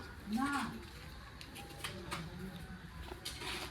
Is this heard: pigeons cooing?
yes